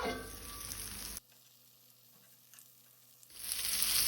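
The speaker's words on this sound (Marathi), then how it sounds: "आता आमी फोडी परतून घेवया।" Ridge gourd slices sizzle in a pan over a medium flame, a steady hiss that cuts out for about two seconds in the middle and then returns louder.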